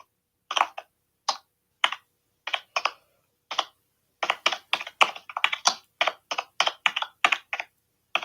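Crisp keyboard taps come in scattered clusters, sparse at first and then quicker and denser, close up with silence between bursts.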